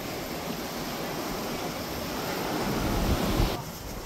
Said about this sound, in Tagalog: Yan o, grabing alon.